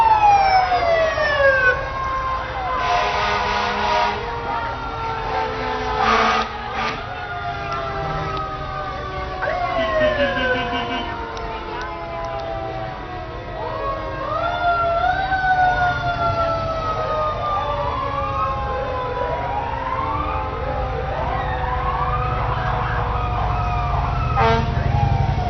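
Fire engines roll past in an Independence Day parade in Milford, their wailing sirens rising and falling in repeated sweeps, loud and close, with air-horn blasts and a low engine rumble underneath.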